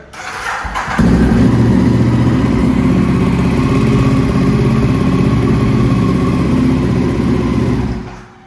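A Ducati Diavel Carbon motorcycle engine cranks briefly, catches and then runs at a loud, steady idle close by before cutting off at the end.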